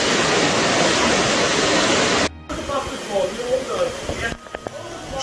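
Strong flood water in Cisnero, Antioquia, Colombia rushes as a loud, steady broadband roar that abruptly cuts to a lower churning flow with voices talking over it.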